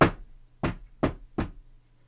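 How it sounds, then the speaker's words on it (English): Four sharp knocks on a door, one, then a pause, then three in quicker succession, close and clear. "knock on the door."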